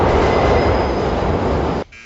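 A train roars along a rail track in a film scene, a loud, dense rumbling rush with a faint high wheel squeal that cuts off abruptly near the end, with no talking.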